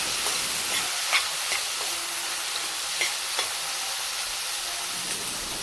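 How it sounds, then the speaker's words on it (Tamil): Onions, tomatoes and garlic frying in a pan for a brinjal curry, giving a steady sizzle with a few scraping stirs of a spoon against the pan, close and with no talking. "வெங்காயம் தக்காளி வெள்ளைப்பூடையெல்லாம் நல்லா வேகட்டும்"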